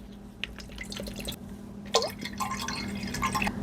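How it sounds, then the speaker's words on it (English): Water from large plastic bottles emptied into a cooking pot set on a butane burner outdoors, heard as an uneven run of splashing, gurgling pours and drips that grow busier toward the end. "I'm gonna start by emptying both of my large water bottles into the pot."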